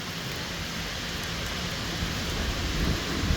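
Hail and heavy rain in a thunderstorm over Bordeaux during Storm Goretti, a steady dense hiss of falling ice and water with a low rumble rising toward the end, no voices.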